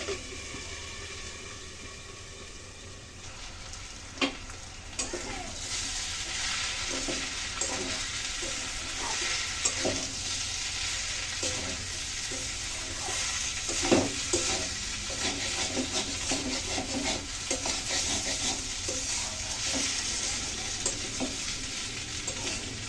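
Cauliflower and potato with egg frying in a pan, a steady broad sizzle with occasional stirring scrapes and clinks running throughout, fairly close and continuous, no voices.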